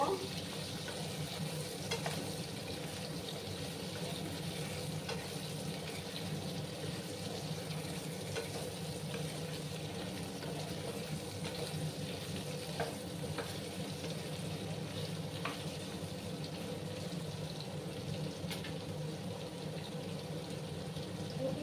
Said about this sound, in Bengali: এগুলোকে প্রথমে আমি ভালো করে ভেজে নেব